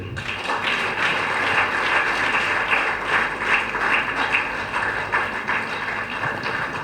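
Audience applause for actor Sasikumar at a Tamil celebration event, with dense steady clapping from a sizeable crowd filling the whole stretch at an even, fairly loud level, without any speech over it.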